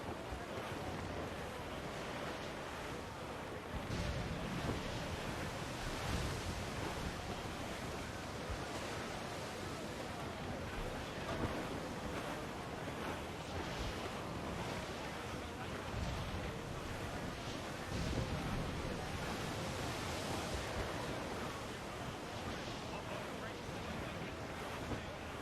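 Wind and surging waves of a sea squall in Assassin's Creed IV roar steadily, with swelling gusts and crashing surf rising every few seconds and voices shouting at times underneath.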